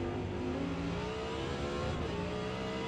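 Race cars in Forza Motorsport, including a Ferrari and an Audi R8 in the GT class at Yas Marina, roar with rising and falling engine revs, several engines layered close together and continuous throughout.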